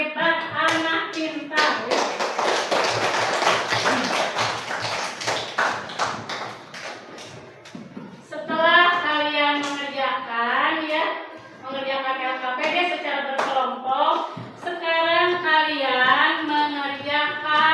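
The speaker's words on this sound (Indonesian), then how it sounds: "Tepuk tangan untuk kalian sebagai anak hebat, anak pintar ya." Schoolchildren clapping their hands in applause in a classroom, a quick, dense patter of claps for several seconds, followed by children's voices chanting and speaking together with scattered claps.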